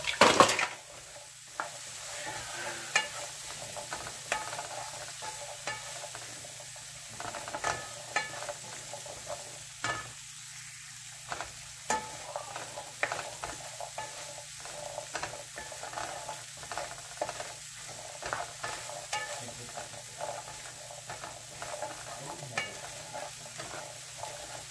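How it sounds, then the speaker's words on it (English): Seasoned chickpeas frying in coconut oil while a utensil stirs them: a continuous soft sizzle broken by repeated scraping, tapping strokes against the pan, close and without talk. "we're going to go ahead and stir it in this coconut oil"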